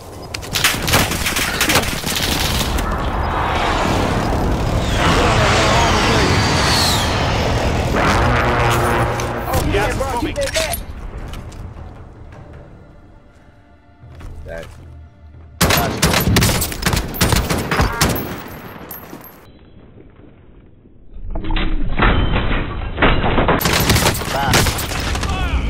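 Gunfire with dense, rapid bursts of shots and heavy blasts, loud and close, broken by a quieter stretch and then renewed volleys, with voices talking at points.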